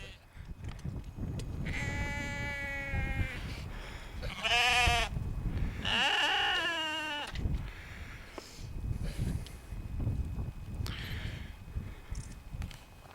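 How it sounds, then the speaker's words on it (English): Several sheep bleat in turn, loud and close, with harmonic cries over a rumble of wind and outdoor background noise, on a country walk in Wensleydale, Yorkshire Dales. "the sheep have come to see us"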